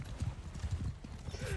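Horse hooves galloping in the video game Mount & Blade II: Bannerlord, a quick rhythmic run of clip-clop beats that continues steadily throughout at moderate volume, with a faint horse whinny high up near the end.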